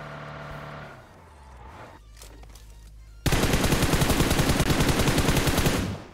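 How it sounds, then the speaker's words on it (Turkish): Rapid automatic gunfire in the battle royale shooter PUBG Mobile, a dense, loud sustained burst of shots following quieter engine and ambient game sounds, with no talk. "Aga yanlışlıkla vurdum adamı."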